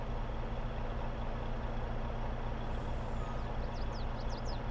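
A heavy truck engine idles steadily in Farming Simulator 22, a constant low rumble with faint higher chirps near the end and no clear air brake hiss.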